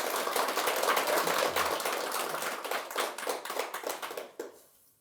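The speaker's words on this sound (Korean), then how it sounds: "이럴 때 박수 한번 쳐야지" Listeners at a Buddhist monk's dharma talk clap together in a steady patter of hand claps that thins out and stops abruptly near the end.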